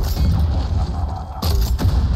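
Gunfire and explosions in the video game Far Cry 6: loud, dense booming bursts across the whole clip, with sharp shots near the end and no voices.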